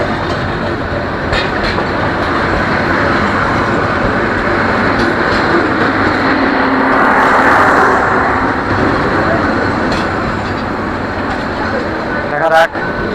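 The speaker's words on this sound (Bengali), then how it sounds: "ঢাকা থেকে ছেড়ে আসা রংপুর এক্সপ্রেস প্রবেশ করে গেল নাটোর রেল স্টেশনের 2 নম্বর প্ল্যাটফর্মে" The Rangpur Express from Dhaka rolls into platform 2 at Natore railway station, a loud continuous rumble of wheels and carriages with rail clatter, a brief horn-like squeal near the end.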